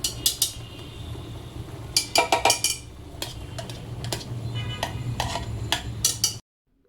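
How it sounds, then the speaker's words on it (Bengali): A spoon clinks and scrapes in a pot while pilaf ingredients are mixed, with ghee and ground onion, black pepper, clove, cardamom and cinnamon paste among them for a beef-shank paya pilaf; repeated close metallic knocks in irregular bursts over a low background hum. "এখানে চামচ দিয়ে মেশানোটা অনেক কষ্ট"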